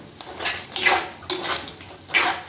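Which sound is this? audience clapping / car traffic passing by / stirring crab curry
stirring crab curry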